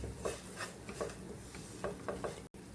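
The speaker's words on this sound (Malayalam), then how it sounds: "ഇത് നന്നായിട്ട് മിക്സ് ചെയ്തെടുക്കുക." Grated jaggery is stirred into a kootu curry in a pan, making rhythmic scraping strokes about twice a second, close and fairly quiet, with a faint sizzle underneath.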